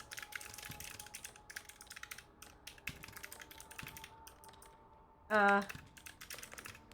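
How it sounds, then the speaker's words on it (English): Computer keyboard typing with irregular key clicks through most of the stretch, interrupted near the end by a brief sustained tonal sound, all at low level over a quiet room background. "Alright, I gotta type all this up."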